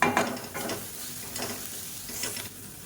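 Coriander leaves sautéed and stirred in a pan for a chutney, giving a soft, steady sizzle with a few scraping stirs that come and go over a few seconds.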